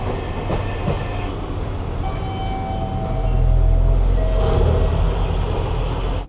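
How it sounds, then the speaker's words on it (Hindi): A local train pulls into a single-track station in Japan with a deep rumble and clatter of wheels on rails. The sound swells louder midway as it draws close, with no voices over it. "भाई यहाँ से नागासाकी जाने वाली ट्रेन आ रही है"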